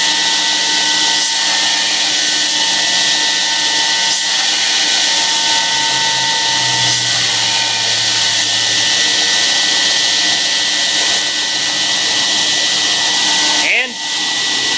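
A power tool grinding a smooth, even bevel on a metal workpiece in a shop, a loud continuous high whine with a low hum beneath that fades briefly near the end.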